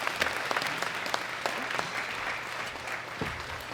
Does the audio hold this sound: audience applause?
yes